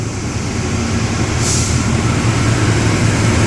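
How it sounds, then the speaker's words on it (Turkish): A steady, loud rumble of an intercity train rolling into a station in Indonesia, with a brief hiss of air brakes partway through. "diğer tren geldi"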